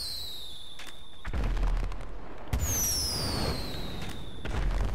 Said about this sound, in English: Would you like some fireworks, my dear?